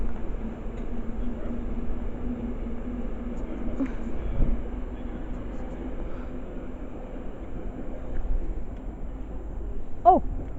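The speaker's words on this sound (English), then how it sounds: "The next train passed by is Avanti from Manchester." An Avanti train from Manchester passing through Harrow & Wealdstone station, a steady low rumble held throughout with a brief squeal near the end, moderately distant.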